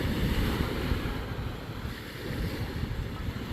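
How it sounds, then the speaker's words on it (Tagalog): Big ocean waves roar in a steady, loud wash of surf, with strong wind buffeting the microphone throughout and no other sounds standing out. "Grabe, lalaki ng alon."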